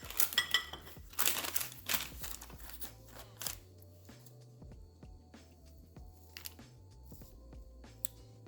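Knife cutting into a low carb cinnamon roll cake, soft crunchy scraping and crinkling up close with light clinks against the dish, busier at first and then thinning out.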